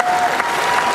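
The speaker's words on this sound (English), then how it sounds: "I also need to hear a big round of applause for the House Democrats." A crowd at the 2016 Maine Democratic Party Convention claps in a brief, dense burst of applause, full and close, with no speech over it.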